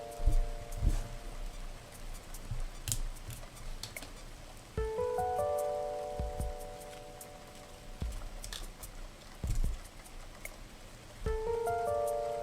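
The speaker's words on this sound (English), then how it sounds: "This music is Animal Crossing music set with a rainy mood over it." Soft rain ambience with scattered drop-like ticks sits under gentle Animal Crossing music, whose sustained melodic tones enter in phrases, quiet and steady throughout.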